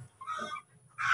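Rhode Island Red chickens clucking close by, giving two short throaty calls separated by a brief pause over low background noise.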